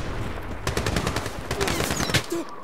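Rapid automatic gunfire crackles in the World War II shooter Medal of Honor, played on hard difficulty. Dense overlapping bursts of shots come with a few faint whistling ricochets, loud and continuous.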